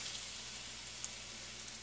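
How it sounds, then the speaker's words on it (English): Plantain slices frying in hot oil in a pan, giving a steady, fairly quiet broadband sizzle with faint crackles throughout. "So I'm just going to place all of these in the hot oil"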